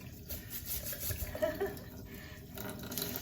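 Cold water pours and splashes steadily into a container while pickled cow's feet are prepared, a continuous close watery rush with no pause.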